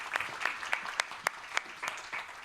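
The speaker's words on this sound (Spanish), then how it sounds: "aplauso para Ana" Scattered audience applause at a talk on cancer, a few separate claps spaced irregularly and fairly faint, no voices over it.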